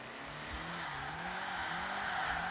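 A car drifting around a roundabout in Forza Horizon 4, with a steady engine drone held at high throttle under a continuous tire hiss and squeal, close and sustained throughout.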